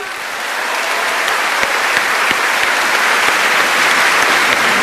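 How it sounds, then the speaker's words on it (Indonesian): A studio audience claps in sustained applause that swells within the first second and then holds steady and loud, with a faint crowd murmur beneath. "Mahfud MD, tepuk tangan dong."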